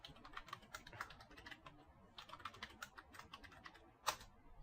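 Soft, close keystrokes on a computer keyboard while a root password is entered, tapped in two quick bursts separated by a short pause and ending with one firmer key press, quiet and without speech.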